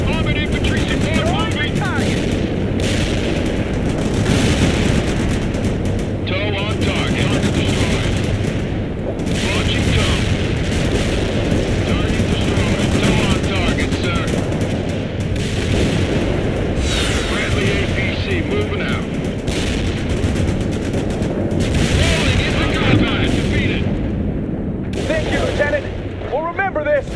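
Sustained video game battle din of gunfire and explosions during an invasion mission, dense and continuous for the whole stretch, with booming impacts and rattling shots layered under constant combat noise.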